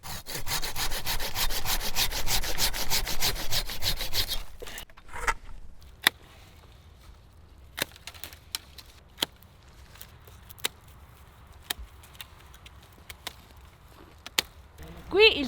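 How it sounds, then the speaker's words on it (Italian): A hand saw rasps through the thick trunk of an old grapevine in a vineyard, with steady rapid back-and-forth strokes for several seconds, then stopping, followed by scattered sharp clicks and snaps of pruning. "Sega."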